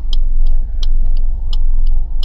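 A CNG-powered car drives along a highway on a trip toward Mahad, with a steady low road and engine rumble and sharp, regularly spaced ticks cutting through.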